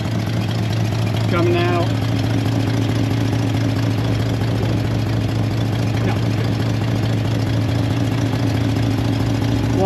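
A C30 engine idles steadily with fuel feeding its carburetor, a constant close mechanical drone running through the whole stretch while someone talks briefly.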